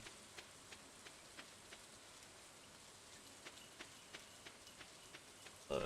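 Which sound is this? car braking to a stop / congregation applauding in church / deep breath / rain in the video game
rain in the video game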